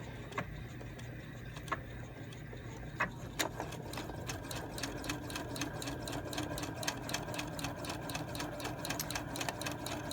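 A sewing machine stitches a lapped zipper into the center back of an A-line skirt, giving a fairly quiet, continuous rapid mechanical chatter with a few louder knocks near the start.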